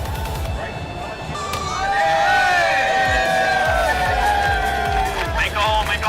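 A crowd cheers, whoops and shouts at a live PC build giveaway event, loud and sustained throughout with a rising swell, voices mixed in.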